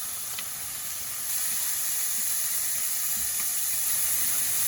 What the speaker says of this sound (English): Now, before it starts burning, we add the vegetables.